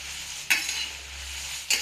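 Chillies being stirred and roasted in oil in a pan give a steady close sizzle, broken by two brief scraping strokes of the stirring utensil.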